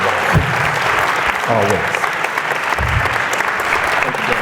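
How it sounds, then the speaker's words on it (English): A church congregation breaks into sustained, dense applause as a reverend comes up to close a service, the clapping steady and close throughout, with a brief spoken word heard over it. "let's give a full round of applause as Reverend Moore comes to close us off"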